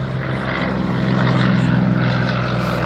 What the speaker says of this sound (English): We've also got full-size planes here, as you can probably hear.